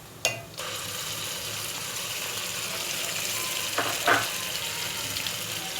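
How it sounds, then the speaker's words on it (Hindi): Steady, close sizzling of lentils frying in a pan, with a couple of brief clinks and stirring sounds and no talking. "दाल फ्राई करते हुए मुझे तकरीबन 5 मिनट हो चुके हैं।"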